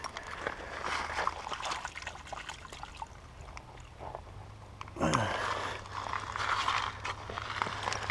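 A small arrowhead is rinsed in creek water, with soft trickling and swishing close by over a steady background flow, the water stirring more strongly partway through.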